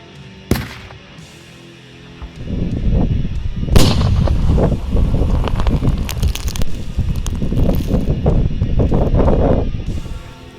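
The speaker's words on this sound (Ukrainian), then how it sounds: "Увага! Вибух!" A single sharp, heavy blast of a grenade destroyed by demolition charge on a minefield goes off close by, followed by a long rumbling roar and crackling debris that lingers for several seconds.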